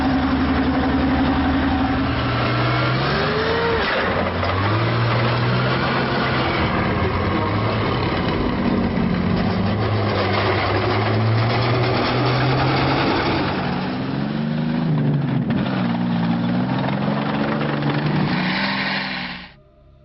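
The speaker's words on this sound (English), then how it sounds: "The distinctive grinding, clanking rhythm of German Panzer tank tracks approaching through the battlefield." A German Panzer tank moves across a World War 2 battlefield, its loud droning engine rising and falling in pitch with a rough grinding texture. It runs continuously and close for about twenty seconds, then cuts off.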